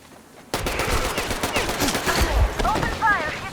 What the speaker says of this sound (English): Open fire! He's been spotted!